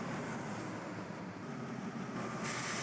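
In Train Simulator 2021, a train rushes past Belmont Station on the Peninsula Corridor, a steady broadband rumble and wheel roar that holds constant and close throughout, with no voices.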